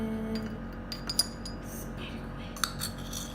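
A spoon scrapes and clinks against a glass mason jar while ingredients for a party welcome drink are moved into it, with a few sharp light taps over a soft steady background.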